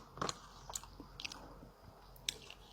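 Someone bites into and chews a very spicy fast food sandwich up close, with several soft crunchy, squishy bites and mouth sounds scattered across a quiet background.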